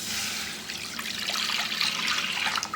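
Water pouring into a pan for rava kesari, a brief steady splashing stream close by with no voices.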